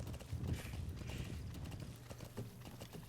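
Hooves clip-clop in a quick galloping rhythm from a horse ridden through an outpost in Metal Gear Solid V, steady and fairly near, with no talk over it.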